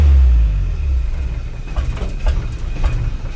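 A 1965 Ford F250 service truck, bought at a farm auction after sitting parked for years, idles high with a loud low rumble that eases after the first moment into a steady throbbing run with faint clicking.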